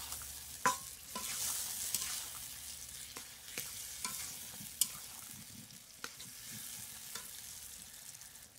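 Eggplant, potato and taro cooking with spices in a pan, stirred with a utensil: a soft steady sizzle broken by sharp scraping clicks at irregular intervals, close up with no talking.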